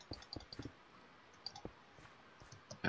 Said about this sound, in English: sorry for the mouse clicking